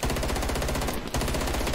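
Loud, dense automatic gunfire from a Call of Duty Cold War match, sustained bursts that fill nearly two seconds with only a brief dip near the middle.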